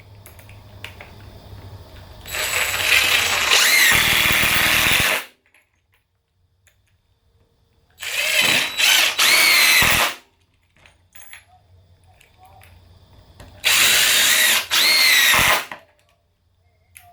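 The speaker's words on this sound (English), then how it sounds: "We're going to take each one individually and drill it straight through." DeWalt 18V impact driver driving straight through wood with no pilot hole, three loud bursts of rapid hammering a few seconds each, separated by quiet gaps with faint background hum.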